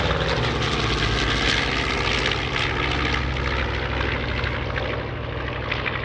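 Radial engines of a B-25 bomber in flight at a World War II air show weekend, a loud, steady, rough propeller drone that fills the air continuously from start to finish without talk.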